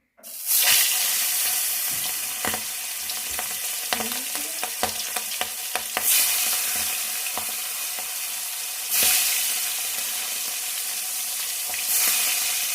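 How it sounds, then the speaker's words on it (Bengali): Tangra fish frying in hot oil in a wok give a loud, steady broadband sizzle with scattered sharp pops and spatters, swelling in bursts as pieces are moved, with no talking. "কড়াইতে তেল দিয়ে দিয়েছি, এবার আমি মাছগুলোকে ভেজে নিচ্ছি।"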